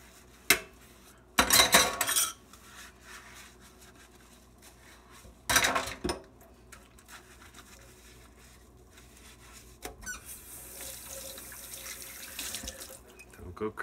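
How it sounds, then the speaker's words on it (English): Hand dishwashing in a sink, with running tap water splashing in bursts and dishes and cutlery clinking close by, then a steadier stream of water toward the end. "just give it all a quick wash on one side and the other side"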